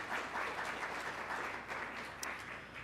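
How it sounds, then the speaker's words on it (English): A forum audience gives a round of applause for its partners, soft, even clapping spread across the room, fairly faint and continuous with no talk over it. "One more round of applause for our forum partners."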